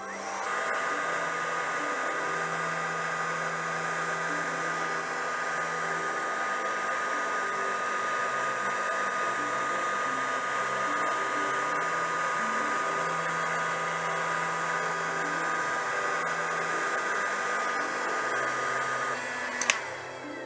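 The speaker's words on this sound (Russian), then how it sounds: "Берем строительный фен и опять подсушиваем поверхность." A heat gun drying Venetian plaster blows with a steady, loud whirring roar throughout, constant and close, with a brief click near the end.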